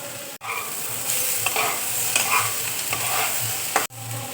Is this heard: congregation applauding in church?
no